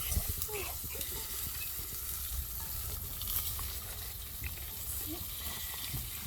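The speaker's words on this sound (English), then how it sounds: "Just pan frying a bit of carway." Fish sizzles and crackles steadily in hot oil in a pan outdoors, close by, with faint bubbling and a soft voice in the background.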